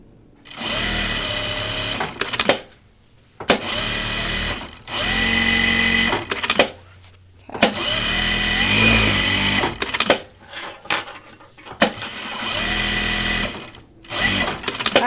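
A sewing machine mock quilting a Tamarack jacket runs in repeated loud, close bursts of a few seconds each, separated by short silent stops.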